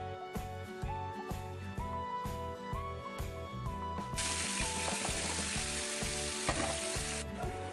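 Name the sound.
chicken pieces frying in oil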